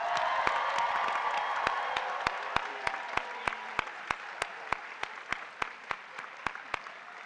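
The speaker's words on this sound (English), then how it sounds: "let's give them a big round of applause" Sustained audience applause fills a university nursing pinning ceremony hall, a dense even wash of many hands with sharper individual claps standing out rhythmically near the front, steady throughout with no speech.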